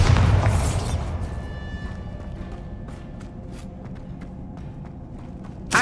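A Bombarda blasting spell goes off in Hogwarts Legacy, a loud deep boom at the start that rumbles and fades over several seconds, with scattered light footsteps and a sharp thump at the end.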